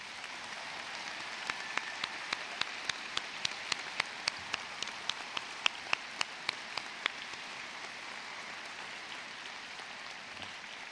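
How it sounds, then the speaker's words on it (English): Graduates and guests at a veterinary medicine commencement ceremony give a round of applause, a steady wash of distant clapping from a large audience with a few louder individual claps standing out, fairly faint throughout. "We all want to give you a round of applause."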